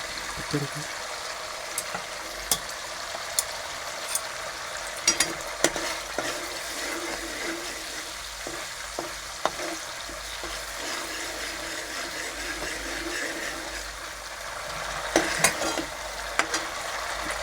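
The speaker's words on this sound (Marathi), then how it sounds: "रेड चिली पेस्ट मस्तपैकी ढवळून घेऊया आता" Red chili paste sizzles and fries in a pan for vegetable noodles while a utensil stirs it, giving a steady close hiss with scattered scraping clicks throughout.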